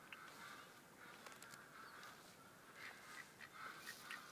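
Mallard ducks quack faintly along a stream in a hunting video game, a soft scattered chorus of calls over a steady rush of flowing water, somewhat distant.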